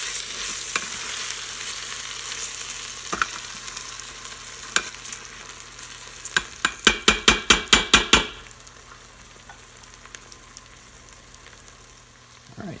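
Rice with salt, pepper and saffron coated in oil sautés in an Instant Pot on the normal sauté setting, a soft continuous sizzle punctuated by scattered spoon scrapes, then a quick run of sharp metallic stirring knocks.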